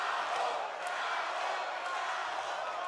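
A boxing crowd at the Bravo vs. Ndongenia fight keeps up a steady, fairly distant roar of shouting and cheering, with a few faint sharp accents over the continuous din.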